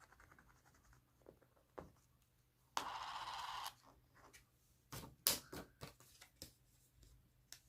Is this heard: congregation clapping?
no